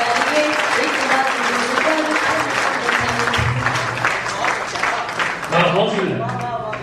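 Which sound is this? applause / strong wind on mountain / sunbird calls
applause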